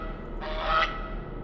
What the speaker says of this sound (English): There's a goose in every one of these games.